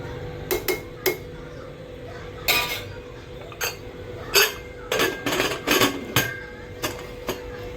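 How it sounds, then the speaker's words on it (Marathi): Chicken biryani with coriander being stirred in a metal pot, giving a string of sharp clinks and scrapes of a spoon against the pot at an uneven pace, close and fairly loud. "आणि पुन्हा एकदा हे हलवून द्यायचे."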